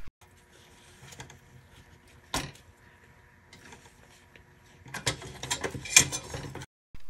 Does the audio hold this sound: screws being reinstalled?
yes